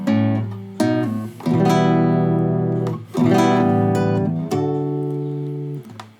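An acoustic guitar strums full chords in a song intro, several strong rhythmic strokes that ring out loudly and close, with no talking.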